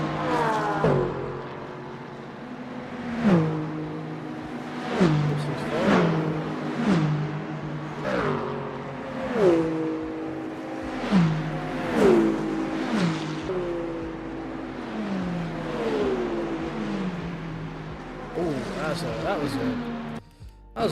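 Race car engines in a multiclass Le Mans Ultimate race at Monza, with BMW and Porsche cars, repeatedly screaming up through the gears with sharp shifts, loud and continuous, under steady commentary.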